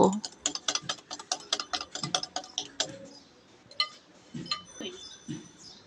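Rapid rhythmic clinking and scraping of a hand whisk beating chocolate cake batter with sugar in a bowl, steady strokes for several seconds before slowing into a few scattered taps.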